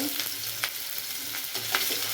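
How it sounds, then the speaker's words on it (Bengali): Chopped garlic, with whole cumin already in, sizzles steadily in hot oil in a pan for a channa masala, a broad crackling hiss with a few sharper spatters and light stirring scrapes, close and continuous with no voices. "রসুন কুচিটা একটু ভাজা ভাজা হয়ে গেলে আদা কুচি দিয়ে দেবো"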